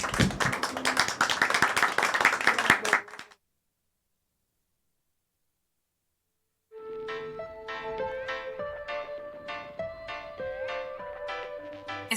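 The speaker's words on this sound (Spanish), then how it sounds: "Un aplauso para todos" At an Arbor Day event, an audience claps briefly in a loud, dense burst that stops abruptly, followed by several seconds of silence and then tuneful percussive music.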